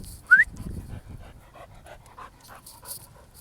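Dog named Reggie panting close by, with a sharp high whimper at the start followed by quieter breathy pants and small rustles.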